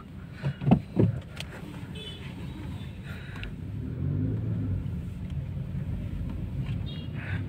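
Toyota Glanza car on a test drive, heard from inside as a low engine rumble that builds midway as it accelerates, with a few brief knocks and clicks early on.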